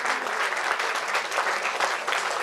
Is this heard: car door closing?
no